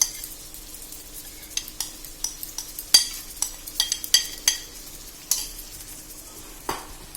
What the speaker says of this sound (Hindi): अब दही डालने के बाद हमें अब कंटिन्यूस मिर्ची को चलाते रहना है।